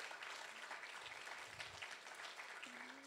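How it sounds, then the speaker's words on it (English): A crowd claps in a dense, sustained burst of applause, moderately distant and even throughout, with a faint voice briefly underneath near the end. "give that a clap"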